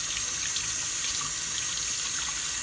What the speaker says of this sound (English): Time to put water on it.